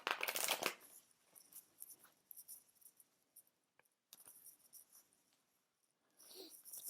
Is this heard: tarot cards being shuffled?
yes